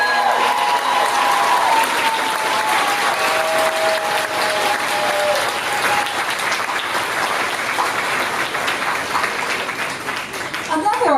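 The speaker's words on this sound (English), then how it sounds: "Let's give them a round of applause" An audience at Moore's 168th commencement breaks into sustained, loud applause, a thick continuous roar of clapping with some voices and cheers mixed in, gradually easing near the end.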